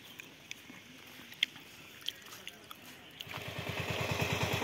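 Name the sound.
tractor engine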